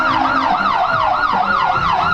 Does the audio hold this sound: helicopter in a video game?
no